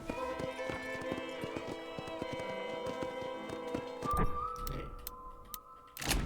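Horses clip-clop at a ranch in the video game Red Dead Redemption, steady close hoof clacks in a brisk rhythm over background music, thinning out before a few scattered later knocks.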